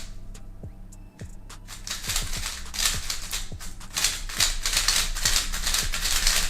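A speedcube is turned fast, giving off a run of sharp, crisp clicks in uneven bursts that start sparse and grow dense and continuous, heard up close with no talking.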